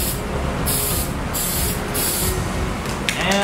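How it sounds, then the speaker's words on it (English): Contact cement sprayed from a can onto a lawnmower-blade war mace handle in repeated hissing bursts, broadband and close, with short pauses between sprays and a faint clatter at the end. "Then I also spray the part of the handle going to be covered with leather with contact cement as well."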